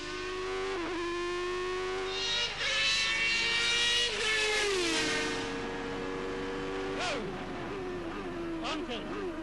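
A 1992 Benetton Formula 1 car driven on a race track: a loud, close, high-pitched engine howl rising and falling through revs and gear changes, with a voice talking over it.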